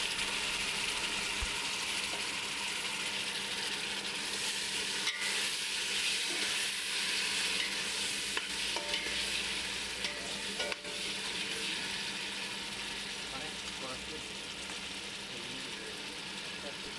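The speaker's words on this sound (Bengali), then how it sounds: "জলটা দিয়ে একটু কষে নেবো" Spice paste sautéing with a splash of water in a pan for a Bengali fish-head muri ghonto: a steady, close, loud sizzle with bubbling and scraping stir strokes throughout, barely easing toward the end.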